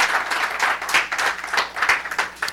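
A church congregation claps and applauds energetically, with a dense burst of hand claps close by that rises and falls.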